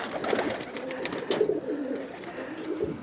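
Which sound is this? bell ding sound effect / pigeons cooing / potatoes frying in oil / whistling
pigeons cooing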